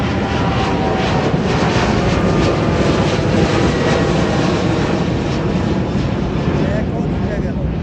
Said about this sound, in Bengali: এই বিমানটা উঠে গেল, দেখেন